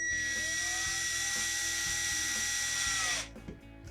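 A power drill drives a screw into a wall while mounting cable management, its high whining motor running steadily and loud for about three seconds before cutting off, leaving faint handling noise.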